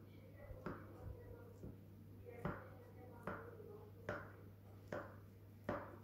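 A knife pre-cuts a set basbousa cake in a tray, seven or so soft, evenly spaced taps and short scrapes, faint and close over a steady low hum.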